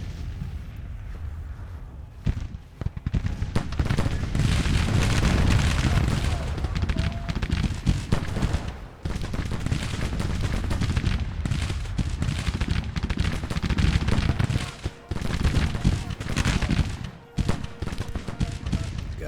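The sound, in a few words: artillery fire in Grand Tactician: The Civil War video game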